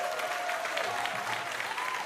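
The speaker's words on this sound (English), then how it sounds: "Amickoleh, clap it up." A small podcast audience claps for a guest in a brief, steady patter of many hands, moderately loud and unbroken, with a faint tone sounding underneath.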